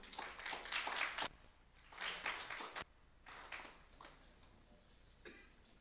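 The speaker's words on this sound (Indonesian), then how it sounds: "Berikan tepuk tangan yang meriah sekali lagi." Audience applause at a Dies Natalis anniversary ceremony of STAHN Mpu Kuturan in Singaraja, Bali, coming in several short bursts of clapping separated by quieter gaps, moderately loud and heard without speech.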